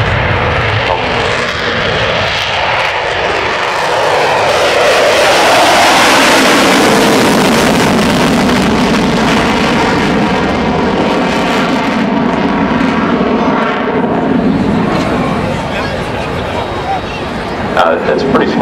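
An F/A-18 Super Hornet jet roars through a short takeoff roll at the Farnborough Airshow 2012, a loud, sustained engine blast that swells and slowly fades, with a voice faintly audible beneath it.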